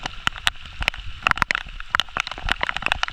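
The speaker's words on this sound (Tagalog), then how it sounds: "Panay ulan na naman mga hunter." Rain falling outdoors while someone checks traps: irregular, sharp drops patter close by in an uneven scatter, some hits louder than others, with no voices.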